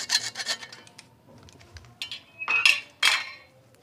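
A PVC pipe being cut, heard as close, scratchy rasping strokes in short uneven bursts with quiet gaps between them.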